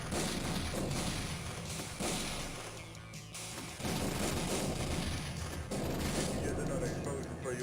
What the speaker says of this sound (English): Here's another explosion for your movie, kid.